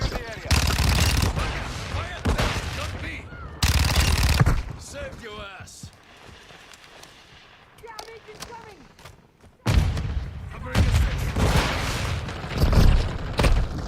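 Rapid bursts of rifle fire in Call of Duty: Modern Warfare II, during a hardpoint match, come in loud clusters at the start and the end. Quieter stretches in the middle hold in-game radio voice callouts.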